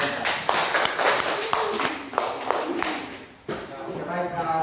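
Students in a class applaud with a burst of uneven, close hand claps that tapers off and then picks up again briefly, with voices talking over it.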